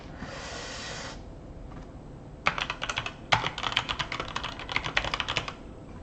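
Computer keyboard keystrokes, including a Ctrl+M press, while editing in Premiere Pro: a soft hiss first, then a quick, close cluster of light clicking taps.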